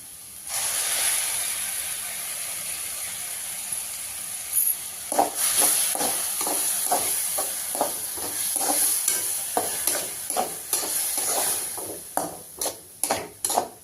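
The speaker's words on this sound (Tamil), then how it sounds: "தக்காளி அரைச்சது ஊற்றிக்கலாம்" Ground tomato pours into beans frying in oil for masala pasta, a loud hiss and bubbling steam at first that gives way to a rhythmic run of stirring scrapes and spoon knocks against the pan.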